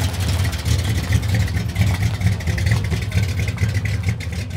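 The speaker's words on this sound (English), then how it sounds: "We've got cars leaving, we've got them turning up still." Cars pulling out of a packed classic and American car breakfast meet in the UK, engines rumbling and revving steadily nearby with a continuous low drone.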